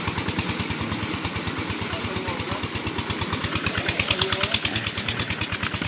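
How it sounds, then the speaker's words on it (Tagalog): A small engine chugs after starting, its rapid regular pulsing loud and close, slightly picking up pace and strength toward the end, with voices nearby. "Papandar na ang makina."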